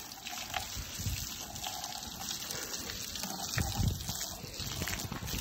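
Water gushes steadily from a hose or tap onto a Yamaha YBR motorcycle being washed, a continuous close splashing spray with a few louder bursts and no talk.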